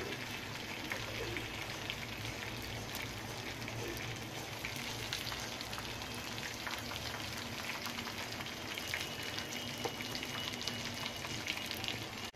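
Chicken cutlets fry in hot oil over a medium flame, giving a steady, dense sizzle and crackle that stays close and even for the whole stretch with no talking.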